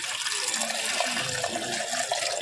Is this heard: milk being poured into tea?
yes